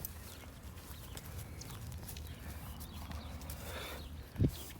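Draft horses walking and grazing outdoors, with soft, scattered hoof steps and shuffling, and one brief, louder thump near the end.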